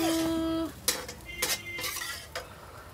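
Fish curry being taken out of a cooking pot: a spoon clinks and scrapes against the metal pot several times in short, close knocks, after a brief steady tone at the start.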